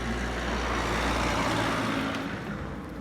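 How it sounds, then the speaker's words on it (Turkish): A car passes along a main road, a steady broadband engine and tyre rush that stays fairly even at moderate level with no talk over it. "Evet araba geçiyor"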